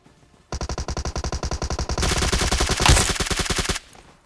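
Automatic gunfire in the BGMI mobile battle royale game comes as a close, rapid, evenly spaced burst lasting about three seconds. It grows denser and louder halfway through, then stops abruptly.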